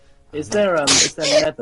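A single sneeze from someone present on a Minecraft livestream, a quick sharp burst between stretches of nearby talking, with people chatting around it.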